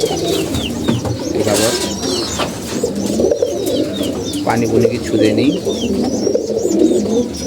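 Pigeons coo steadily in a low, rolling murmur throughout, with chirps and a person speaking briefly over them.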